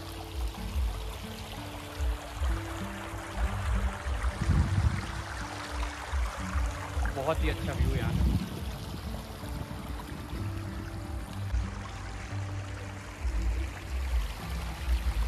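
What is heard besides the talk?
flowing stream water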